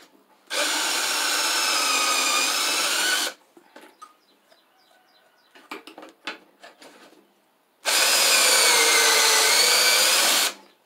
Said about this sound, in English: we're going to put our put all our pocket screws in here